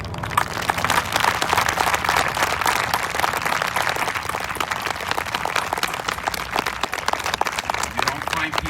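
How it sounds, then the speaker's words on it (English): A high school graduation crowd gives continuous applause, dense clapping filling the hall at moderate loudness with voices mixed underneath. "I want to do a moment of applause for everybody that helped put this"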